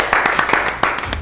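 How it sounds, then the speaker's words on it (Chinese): A small group gives a brief, sharp scatter of hand claps, around seven distinct slaps close by, to welcome a coffee roaster at a Taichung coffee shop. "掌声欢迎舒华"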